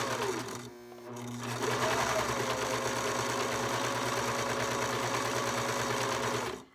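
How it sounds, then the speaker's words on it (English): A serger stitches clear elastic into a leggings waistband, running as a steady, close mechanical hum for several seconds after a brief stop-start near the beginning. "And then I just start serging"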